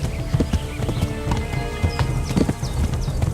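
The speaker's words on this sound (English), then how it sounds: "There are numerous horses with varied stats in the game." Horse hooves clip-clop steadily in the medieval role-playing game Kingdom Come: Deliverance, a close rhythmic trot with occasional whinny-like calls and ambient game sounds layered underneath.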